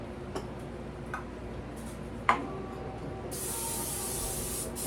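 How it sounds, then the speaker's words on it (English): Extra virgin olive oil sprayed from a can into a small Pyrex pan, a few faint clicks and a tap, then a steady bright hiss of spray that runs to the end. "I am going to spray it with some extra virgin olive oil."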